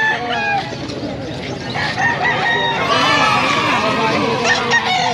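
Fighting roosters crow repeatedly at a busy pet market in Calumpit, loud and close, with clucking fowl and a babble of people talking around them.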